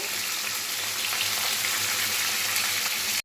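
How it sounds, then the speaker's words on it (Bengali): Pomfret fish frying in hot oil in a pan, a steady close crackling sizzle that runs continuously with no voices over it. "মাছ কিন্তু খুব ভালোভাবে ভাজা হয়ে গেছে"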